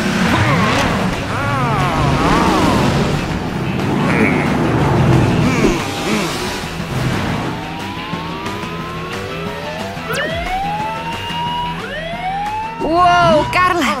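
Cartoon race cars zoom off at the start of a race in an animated truck town, engine whines rising and sweeping in pitch over busy music and effects, with a crowded, loud mix throughout.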